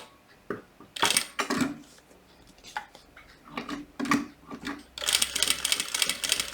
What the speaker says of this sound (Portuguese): E assim você vai costurando em cima desse risco até chegar aqui e finalizar com retrocesso.